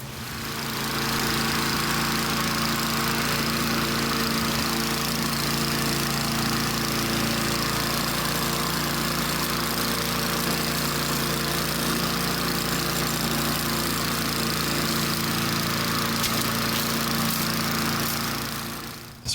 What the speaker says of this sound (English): Finished mowing the front yard.